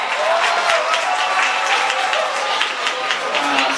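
Audience applause at the opening ceremony of a Thai university arts and culture festival, following a performance by a university troupe; dense steady clapping fills the whole clip at an even, fairly loud level with no break.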